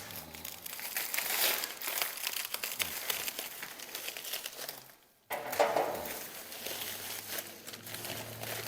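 Close, busy crinkling and tearing of plastic packaging around a BedWood wood bed kit for a 57 Chevy 3100 as a knife cuts it open, continuous with a brief silent gap midway before the rustling resumes.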